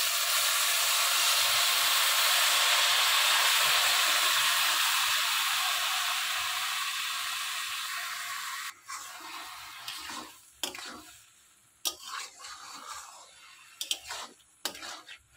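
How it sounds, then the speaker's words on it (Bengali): Boiled liquid milk pours into a pan of carrot halwa, a broad steady hissing rush for several seconds that tapers off, followed by sharp clinks and scraping stirs of a spoon against the pan. "দিয়ে দেব ফুটিয়ে রাখা লিকুইড দুধ।"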